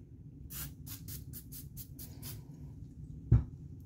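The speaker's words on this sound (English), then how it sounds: "spray a little bit of Balesteros on here" Short bursts of Ballistol lubricant sprayed onto a pistol recoil spring, about eight quick hissing puffs in a row, close and fairly quiet, followed by a single soft knock.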